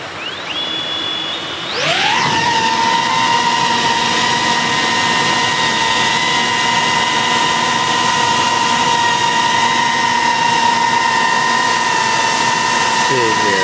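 A DJI Avata 2 or Mavic 3 Classic drone fitted with Master Airscrew propellers spins up abruptly from a quiet start. It settles into a loud, steady, close buzzing whine with strong tonal propeller hum that holds throughout.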